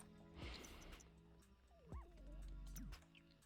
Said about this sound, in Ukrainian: Собака там, блін, хворий.